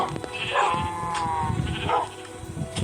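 Sheep bleating on a video game farm, a couple of short bleats over a busy backdrop of game sounds and faint background noise.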